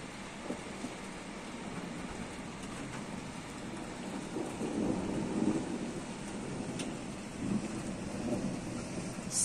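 Continuous rainfall in southern Russia hisses steadily with a low rumbling undertone, no voices, holding an even moderate level throughout.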